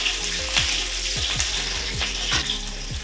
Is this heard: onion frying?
yes